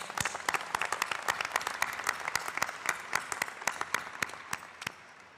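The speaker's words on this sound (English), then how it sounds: "Another round of applause for Kaylee." An audience at a 2022 RMIT University graduation ceremony claps in a sustained round of applause, with sharp individual claps standing out over the crowd and slowly fading away.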